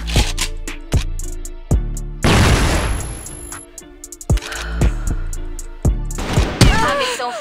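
A grenade goes off in a shooter game, a sharp blast that leaves a roaring, noisy burst lasting about a second. Heavy thuds and gunshots repeat before and after it, and a voice briefly calls out.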